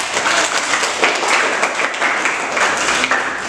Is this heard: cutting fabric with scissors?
no